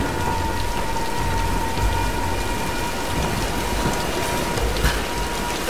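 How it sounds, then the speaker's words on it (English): Steady heavy rainstorm in Tomb Raider Definitive Edition, dense continuous rain noise at close range with a low thunder rumble underneath. "Nah, let's wait out the storm."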